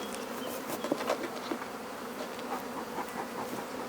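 A honey bee swarm being housed in a hive, with a dense, continuous buzz of many bees close by and steady throughout, with no talk.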